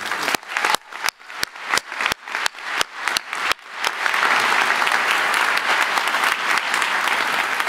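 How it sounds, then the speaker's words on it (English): A convocation audience applauds: a few sharp, evenly spaced claps open the moment, then a dense, loud wash of clapping from a large crowd sustains to the end, with no voices on top. "I'd like to give you another round of applause"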